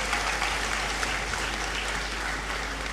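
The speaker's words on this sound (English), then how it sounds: "he deserves another big round of applause again" A large audience in a university great hall claps at a degree congregation ceremony, a dense, even wash of applause sustained without break from start to finish.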